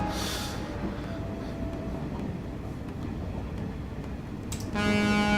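Trains in the video game Train Valley rumble steadily along rails with a dense, continuous clatter. A hiss sounds at the start, and a horn-like toot rises near the end.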